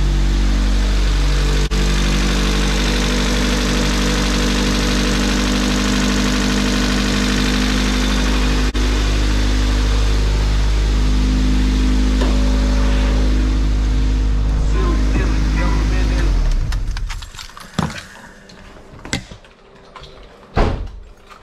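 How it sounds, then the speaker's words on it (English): Honda B18B1 engine idling with lifter tap, a steady close mechanical hum with a fine rapid ticking layer, then cutting off abruptly into quiet with a few clunks and knocks. "let me show you what this car sounds like with the lifter tape."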